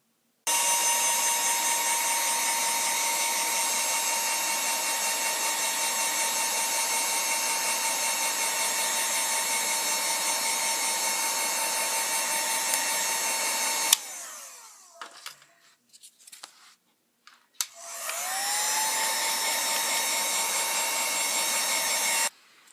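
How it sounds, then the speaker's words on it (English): A steady, loud blowing whir with a whine from a heat gun blowing hot air to shape craft foam runs continuously, cuts out abruptly with brief clatter, then spins back up and resumes its constant roar. "So I'll do that real fast with my handy dandy heat gun."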